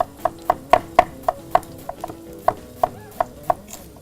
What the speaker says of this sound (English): And you want to shave it nice and thin.